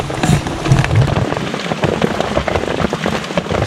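Heavy rain pours down on a forest campsite in the mountains at night, a dense, loud, continuous hiss of drops pattering on surfaces with no voices.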